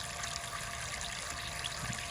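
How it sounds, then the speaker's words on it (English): Water streams steadily through a tube past a flow sensor, a constant close hiss and rush with no break across the short stretch. "So as I run my water through the line"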